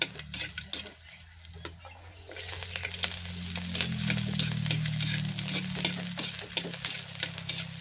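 Seafood, including sea urchin, cooks in a pan with a steady sizzle and occasional stirring scrapes, growing louder and fuller midway. No one speaks, and faint background music runs underneath.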